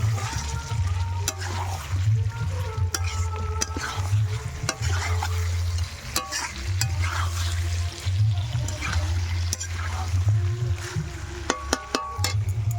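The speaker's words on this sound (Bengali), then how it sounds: "এই যে আলু দিলাম, আমার নাড়বো।" Potatoes stirred into chicken frying in a pan, with a steady close sizzle and repeated scraping stirs throughout, with no talk.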